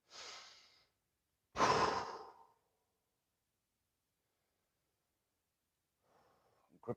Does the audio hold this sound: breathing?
yes